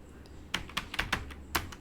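A terminal command is typed on a computer keyboard in a short run of quiet, distinct key clicks at an irregular pace, with no voices.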